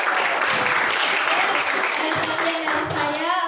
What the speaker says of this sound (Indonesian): Kita kasih aplaus terakhir